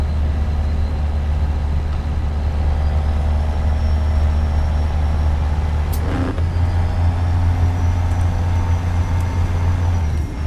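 An old Caterpillar 3176 diesel engine idling and running in a truck driving game with a Kenworth W900, a steady deep drone that stays loud and even, broken by one brief hiss partway through.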